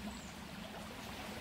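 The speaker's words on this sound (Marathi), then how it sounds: "अक्षय आता बैलांना धुवत आहे पाण्यात" Water swishes and trickles as a pair of bullocks, just unhitched from the plough, are washed in a stream during Konkan rice planting, a soft steady flowing sound heard from a little distance.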